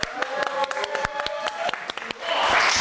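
An audience claps and cheers at an interview show, sharp scattered claps building into a loud swell of applause near the end.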